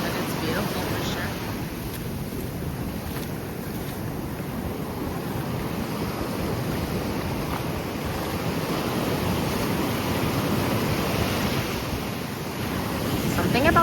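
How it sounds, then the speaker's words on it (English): Ocean waves rolling onto a beach, a continuous broadband wash of surf mixed with wind buffeting the microphone, steady throughout and swelling slightly near the end. "Something about the sound of waves is so relaxing."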